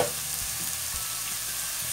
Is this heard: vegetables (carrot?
yes